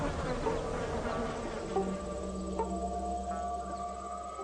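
Flies buzzing steadily around a stapelia-type carrion-scented flower that smells of rotting meat, a continuous close insect drone with a few brief louder passes.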